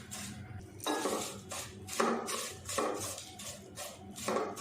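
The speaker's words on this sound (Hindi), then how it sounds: "हल्की आंच पे इनको रोस्ट कर लेंगे घी में अच्छे से" Vermicelli roasts in ghee in a pan over low heat, stirred with steady scraping strokes that come in rhythmic bursts about every second, close and clear with no talking.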